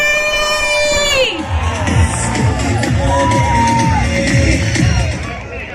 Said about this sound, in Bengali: সকলকে একসাথে সকলের জন্য একটা জোরদার তালি হয়ে যায় জলপাইগুড়ি